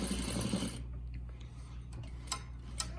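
Sewing machine locking a stitch: a short, loud, close whirring run that stops abruptly after under a second, followed by a few faint mechanical clicks.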